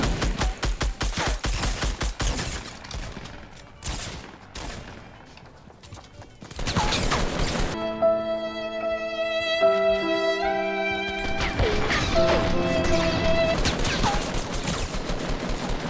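Fortnite gunfire rattles in rapid bursts and single shots, loud and close, mixed with game effects and musical tones partway through, then sustained fusillades toward the end.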